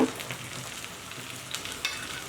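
Onions softened to light brown fry in a pan with ginger and garlic pastes and ground spices for chicken roast, a steady close sizzle with soft stirring scrapes and a few brief clinks.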